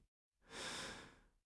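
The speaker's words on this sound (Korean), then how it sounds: "거친 숨소리가 고요한 복도에 메아리 친다." One long, heavy, rough breath, a close and quiet airy exhale that swells and fades after a short silence, echoing as in a quiet corridor.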